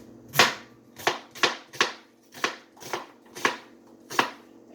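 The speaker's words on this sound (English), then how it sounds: "I'm pretty good at chopping." A kitchen knife chops an onion on a cutting board in a home kitchen, eight crisp close strikes at a steady unhurried rhythm, each a sharp knock with a brief ring, no talking.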